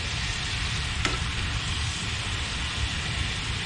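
Shrimp fry in butter in a hot pan, giving a steady, close, hissing sizzle that holds at an even level throughout, with a faint tap or scrape partway through.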